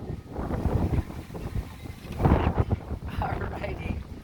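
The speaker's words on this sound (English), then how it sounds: "I told you it was windy." Gusty wind at Cherry Grove, North Myrtle Beach, buffets the microphone in loud, rumbling low bursts, with a voice speaking faintly underneath.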